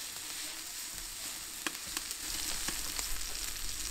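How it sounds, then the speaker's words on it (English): Beef sirloin steaks searing on a brick rocket stove, a steady bright sizzle with scattered sharp crackles and pops, plus a low rumble from the fire joining partway through. "So we've got good sear on both of those steaks"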